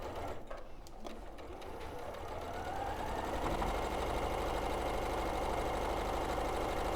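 A sewing machine runs steadily, stitching a long seam down a cushion, its motor hum and needle clatter building from a softer start to a constant, close drone with no talking.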